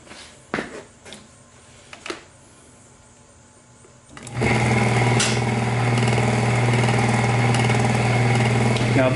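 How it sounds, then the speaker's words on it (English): A three-phase electric motor powered from a single-phase conversion starts up after a few scattered knocks and clicks, then settles into a steady loud hum and whir at 1075 RPM that continues without a break. "Now this motor is now running at 1075 RPM"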